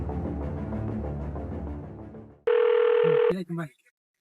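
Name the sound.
telephone ringing while making a phone call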